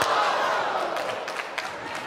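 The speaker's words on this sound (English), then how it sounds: "The crowd is totally into this." Spectators at the 2021 American Cornhole League World Championships pro doubles roar and cheer loudly after a big shot, a broad crowd din that stays strong and then tapers slightly, with scattered shouts rising through it.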